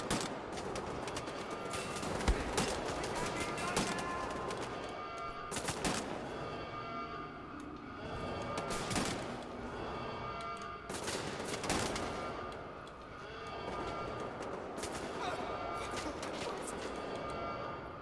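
Sustained in-game gunfire from Wolfenstein: The New Order, dense bursts of rapid automatic shots and heavier blasts repeating every few seconds, loud and continuous throughout.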